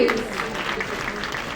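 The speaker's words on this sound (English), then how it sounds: "Please let's give him a round of applause." A crowd at an air freight transport panel claps continuously for a brief moment, a dense, even patter of applause without pauses.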